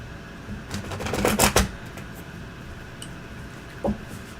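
Tarot cards being shuffled during a reading, a quick burst of papery riffling and tapping followed by quieter rustles and a later soft tap, close and fairly faint with no talk.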